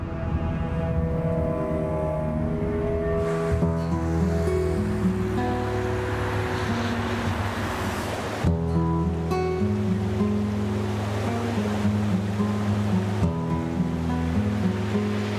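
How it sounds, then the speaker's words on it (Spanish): The Lagunilla river in Colombia rushes down from the Ruiz volcano in a steady, broad roar of flowing water, with sustained music playing over it throughout. "Este es el río Lagunilla que baja desde el volcán del Ruiz."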